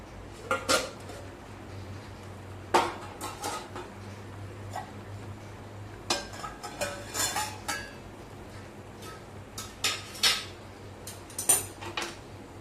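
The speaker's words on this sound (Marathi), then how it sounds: "झाकण उघडून बघूया" Lid of a steel pot of cooked kharvas, a Maharashtrian colostrum pudding, lifted with sharp metallic clinks and clanks scattered across a quiet kitchen, short taps spaced irregularly.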